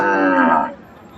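At a rural cattle market selling bulls, a single cow gives a close, loud moo that rises and then fades, followed by quiet background murmur.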